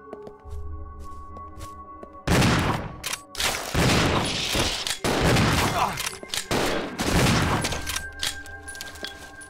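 Gunfire in Resident Evil Zero: after a quiet stretch with a low game hum, a sustained loud volley of shots bursts in and keeps going in dense, rapid bursts for several seconds.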